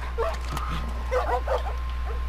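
Dogs fight in The Last of Us Remastered, giving out short yelps, whimpers and growling barks over a steady low background hum, close and moderately loud.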